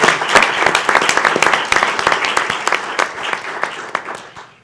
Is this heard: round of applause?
yes